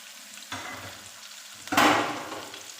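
Green chilies and ginger paste being stirred in a frying pan produce two bursts of scraping and sizzling, the second louder and longer, with quiet gaps between and no voices.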